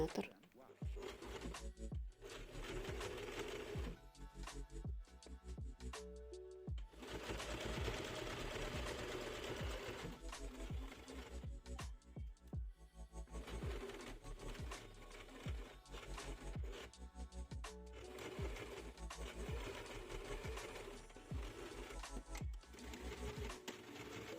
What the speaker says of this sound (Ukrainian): нам потрібно прокласти строчку на швейній машинці на ширину припуска